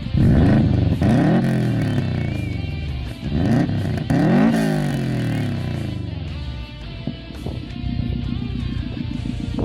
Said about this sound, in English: Let's hear what that 3-inch turbo back custom exhaust sounds like.